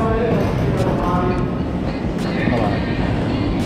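Rumble of a train in Japan, a steady low roar with faint clatter that continues throughout, with people talking over it.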